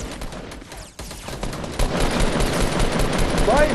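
Automatic weapons fire in a Fortnite Battle Royale squad match, with rapid bursts of close, loud shots that build and continue almost nonstop, mixed with game noise.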